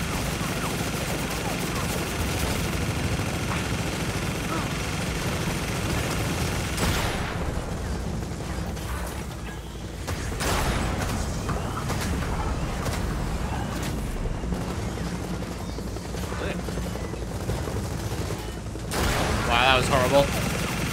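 Heavy gunfire from Gears of War 4 gameplay, sustained bursts and booming shots filling the mix at close range, with a louder volley near the end and a player's voice occasionally over it.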